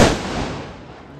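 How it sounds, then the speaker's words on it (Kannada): A firecracker bursts during a Diwali celebration: one sharp, loud bang up close, followed by a rumbling tail that fades out over about a second. "ಇವಾಗ ನಾವು ಹೊಡೆಯೋಣ ಪಟಾಕಿ"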